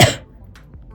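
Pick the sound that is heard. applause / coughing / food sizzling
coughing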